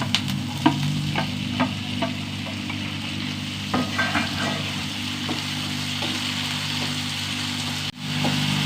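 Tomato masala sautés and sizzles in a pan, a steady frying hiss with repeated scraping and stirring clicks from a spoon, close and fairly loud, without talking.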